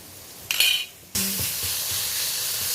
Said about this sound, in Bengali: তো এইটা আমি একটা চামচ দিয়ে ভালো করে নেড়ে রেখে দিলাম।